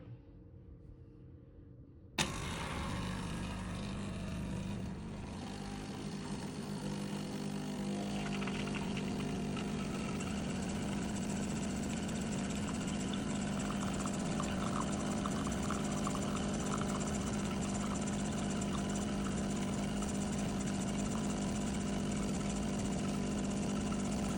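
Nespresso F541 Gran Latissimo capsule coffee machine running a lungo cleaning cycle, a sudden start into a steady buzzing pump drone that continues evenly for over twenty seconds, close and fairly quiet.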